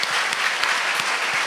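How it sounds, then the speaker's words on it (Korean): A church congregation breaks into applause during a Sunday service, a brief, close, even roar of many hands with a few distinct claps punctuating it. "박수로 한번 하는 거죠."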